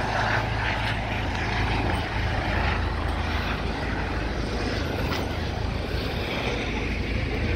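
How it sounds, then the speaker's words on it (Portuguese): Police helicopter passing low over a beachfront promenade at Praia de Iracema, a steady rotor and engine drone filling the air, loud and continuous over outdoor background noise. "Ó, helicóptero, ó, polícia"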